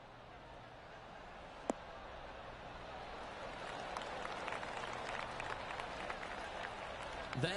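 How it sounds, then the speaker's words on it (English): Golf crowd applause in a golf video game, a soft, distant patter of clapping that swells gradually over low background noise, with one sharp click early on. "That deserves a golf clap."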